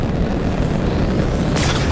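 Artillery shelling in the Marvel's Avengers video game: a loud, continuous low rumbling boom that fills the clip, with a sharper burst of noise breaking in near the end.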